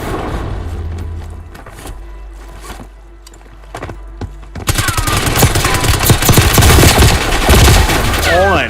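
Bursts of gunfire in a Call of Duty match: scattered sharp single shots at first, then a dense, loud fusillade of rapid automatic fire filling the second half.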